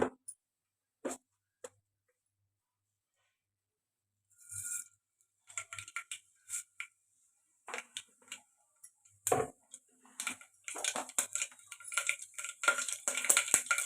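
Mustard seeds hit hot oil in a pressure cooker and pop, sparse isolated ticks at first, then more frequent sharp crackles and spatters that grow busier toward the end.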